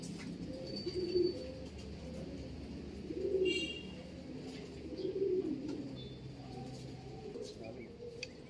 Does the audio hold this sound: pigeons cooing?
yes